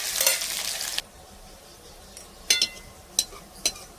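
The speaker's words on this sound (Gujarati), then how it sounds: "હવે આપણે ઝીણી સુધારેલી ડુંગળી એડ કરી દીધી। એ બધું આપણે તળવા દઈશું।" Finely chopped onions frying in hot oil with cumin: a bright hiss of sizzling at the start, then quieter frying with a few sharp clinks and scrapes of stirring.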